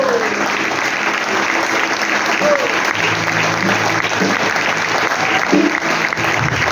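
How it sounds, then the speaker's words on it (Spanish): Sustained applause from a large church congregation fills the space, a dense steady clapping with some voices faintly mixed in. "Dale un fuerte fuerte aplauso al Señor"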